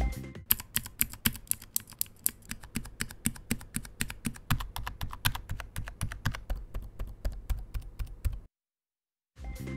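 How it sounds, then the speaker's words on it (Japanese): Rapid, steady typing on a computer keyboard with mechanical, membrane or pantograph keyswitches. Loud, close key clicks come in a dense rhythm for about eight seconds, then stop abruptly into silence before a final tap. "キースイッチの違う4種類のキーボード、メカニカルキースイッチ青軸、メカニカルキースイッチ赤軸、メンブレン、パンタグラフ"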